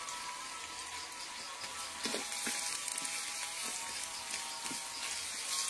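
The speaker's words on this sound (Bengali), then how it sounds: "পেঁয়াজগুলো লাল হওয়া অবধি ভালো করে ভাজবো" Chopped onions frying in a pan until reddish for a Bengali chicken curry, a soft, steady sizzling hiss with a few faint pops scattered through.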